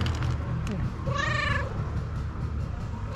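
A single excited house cat lets out one clear, rising meow close by, amid background clatter and someone talking.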